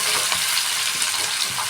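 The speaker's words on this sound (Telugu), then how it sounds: "పెద్ద ఆనియన్ కట్ చేసి వేస్తున్నాను" Chopped large onions sizzle in a pan for egg curry, a close, continuous bright frying hiss with faint stirring scrapes and no voices.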